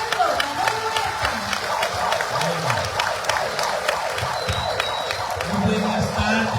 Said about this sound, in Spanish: Fuerte el aplauso para el licenciado del pueblo, Manuel Huerta.